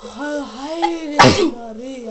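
One sharp human sneeze bursts out in the middle of someone's speech, close and loud, with talking just before and after it.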